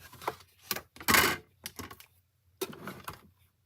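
A die cutting machine for cardmaking runs in short bursts of clicking and whirring, with one louder grinding stretch and quiet gaps between.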